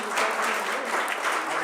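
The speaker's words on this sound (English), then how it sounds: "It's okay if you give him a round of applause." Audience applause at a city legislative meeting, a dense, even burst of many hands clapping at once, close and loud, sustained without break.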